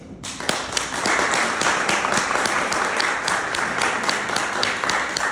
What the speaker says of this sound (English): One more time, a round of applause for her.